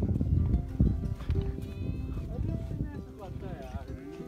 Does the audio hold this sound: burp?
no